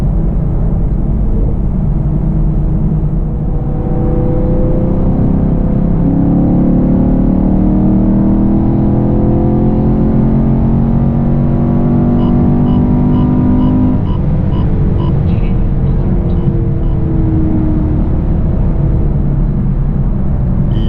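Heard from inside the cabin, the V8 engine of a Chevrolet Camaro SS 1LE accelerates through rising revs, with a loud, continuous drone and a brief dip for a shift before it settles into a steady cruise.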